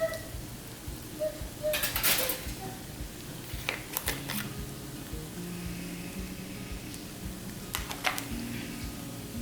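Stir fried rice seasoned with salt and white pepper is mixed in a pan, a spatula scraping and clinking against metal in scattered strokes over a constant background sizzle and hum, with a few sharper knocks.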